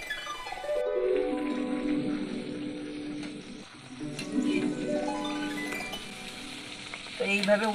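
Ripe-mango luchi deep-frying in oil is stirred and turned, making a close bubbling sizzle with a few light clinks, while a tonal sweeping sound rises and falls over it.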